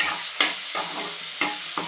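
Tomato and onion sautéing in oil for an eggplant curry give a steady close sizzle, broken by several sharp scraping stirs of a spoon in the pan, with no voices.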